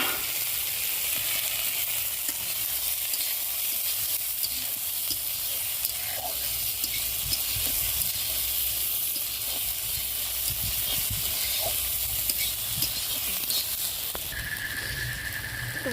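Potato and tomato pieces fry in a hot pan, a steady sizzle with occasional soft stirring scrapes running throughout, close and even in level, with no talk.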